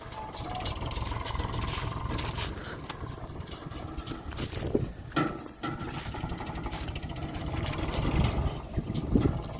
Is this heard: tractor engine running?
yes